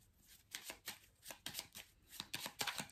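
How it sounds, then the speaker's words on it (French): Tarot cards being handled and laid out during a card reading, a quick irregular series of close papery slaps and flicks, about a dozen in a row, with no talking. "Et on va recouvrir certaines cartes."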